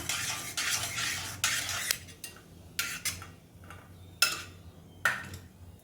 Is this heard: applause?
no